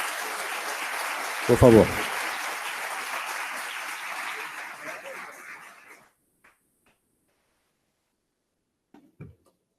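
Audience applause at a lecture gathering, a steady clapping from many hands that fades out after about six seconds. Someone speaks briefly over it, and the room then falls almost silent.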